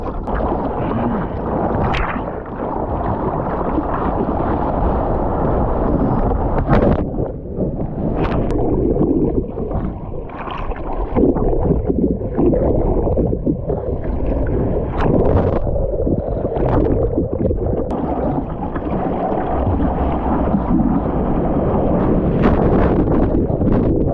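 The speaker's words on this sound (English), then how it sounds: "Whew, cold, it's really breezy, the wind." Breezy, cold wind gusts at the beach while out surfing, a loud, steady rushing blast over the microphone, mixed with choppy water washing close by.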